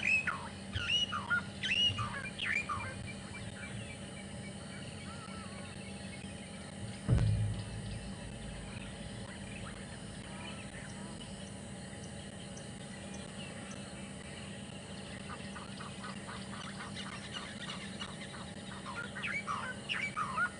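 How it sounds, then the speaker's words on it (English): A mother goose with her goslings calls on an afternoon safari drive in a South African game reserve: scattered squawks and chirps over a steady outdoor hum, with one brief thump midway and more calls near the end. "there's Mama Goose with the goslings"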